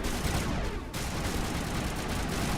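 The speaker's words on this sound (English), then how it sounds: "y'all need to chill out and stop shooting me for a second" Enemy gunfire rattles nonstop in Mass Effect Legendary Edition, a dense, loud barrage of shots and blasts that fills the whole clip without a pause.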